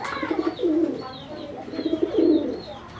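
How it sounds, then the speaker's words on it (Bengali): A pair of sky-blue Golla pigeons coo nearby, their deep, rolling calls coming in two or three swelling bursts. Fainter chirps sound in the background. "একজোড়া আকাশি কালার গোল্লা কবুতর, এটা এত ছটফটা মনে হচ্ছে"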